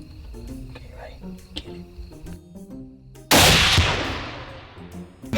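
A single loud rifle shot during a javelina hunt bursts out after a quiet stretch of faint outdoor ambience, with a sharp onset and a long rolling decay.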